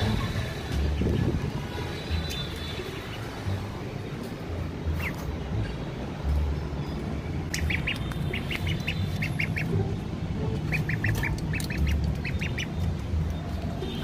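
Ducks in a new coop on a rooftop, quacking and squawking in short repeated bursts, some nearby, over a steady background rumble.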